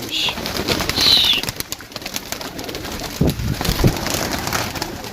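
Rooftop pigeons from a large loft flock give soft cooing calls, with bursts of wing flapping and fluttering close by over a steady outdoor background.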